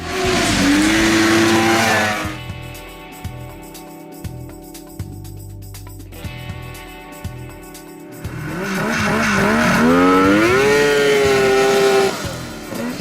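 The engine of a homemade Mini Baja Bug revs hard and loud up close as the vehicle pulls wheelies, rising and falling in pitch, easing to a rough idle midway, then climbing again.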